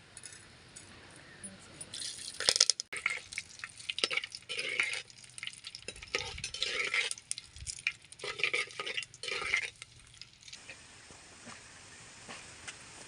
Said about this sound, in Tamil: எண்ணெய் காஞ்சிருச்சு நம்ம இப்போ வெந்தயம் போட்டுக்கலாம்